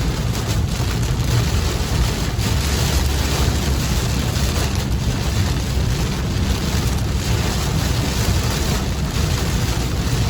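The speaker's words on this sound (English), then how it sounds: "pouring down rain." Heavy pouring rain heard from inside a car, a loud, dense, constant hiss and drumming rumble that fills the whole stretch without letup, with no one talking.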